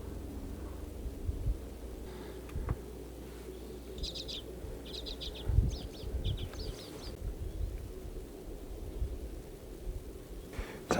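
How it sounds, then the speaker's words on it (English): Small birds chirp in short repeated bursts in Alaskan spring woods, fairly distant over a low steady background rumble, with a few scattered knocks and thuds. "I hear some birds."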